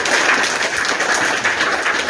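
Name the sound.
applause, clapping hands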